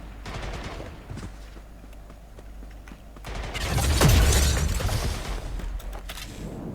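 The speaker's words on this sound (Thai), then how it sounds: "ปล่อยเขายิงกันต่อไป" Gunfire from a shooting video game, rapid bursts of shots and scattered single cracks, building to a louder cluster of fire with a heavy blast in the middle.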